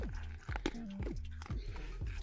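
A nursing mother dog on a farm bites and chews a biscuit in a series of close, repeated crunching bites, with whimpering or squeaky sounds mixed in between them.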